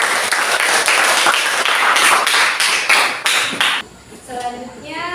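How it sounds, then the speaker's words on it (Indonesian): A school class claps steadily for a student group, loud and close with a roughly rhythmic beat, then the clapping stops abruptly and a voice is heard in a quieter room. "Oke, kita tepuk tangan dulu untuk kelompok."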